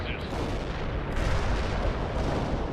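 Dense artillery fire in the World in Conflict strategy game, a continuous loud rumble of explosions and booms filling the whole stretch with no gaps.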